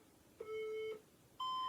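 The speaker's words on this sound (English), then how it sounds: "Oh, gotta start my timer. All right, starting the timer." A workout interval timer sounding its start signal, a short steady beep followed by a second higher beep, clear and close in a quiet room.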